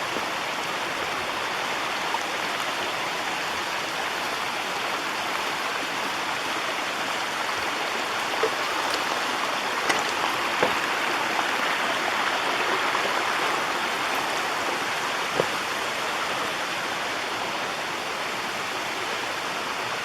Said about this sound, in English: Oh, there's a waterfall back here.